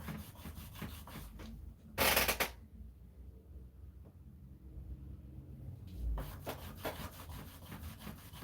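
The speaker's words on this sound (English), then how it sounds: "Just going to kind of sand it a little bit with some 3000 grit to kind of just give it a nice sheen" A 1921 silver dollar coin ring is rubbed with 3000 grit sandpaper in soft, rhythmic scratchy strokes, with a brief louder burst of friction partway through and renewed strokes near the end.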